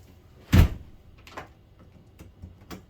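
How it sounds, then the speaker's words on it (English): A front door swings shut with one firm thud, followed by a few softer clicks and knocks, likely the lock being turned, close by in a quiet room. "Always lock the front door."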